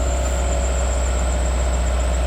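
A 2015 Subaru WRX idling on a cold start gives off a thin, steady high-pitched pulley squeal that rides unbroken over the low engine hum.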